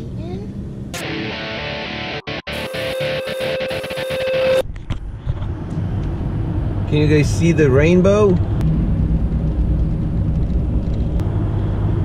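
A car drives along a road while the driver passes from sunny into rainy weather, its steady engine and road rumble running throughout beneath talking, with music playing over the first few seconds.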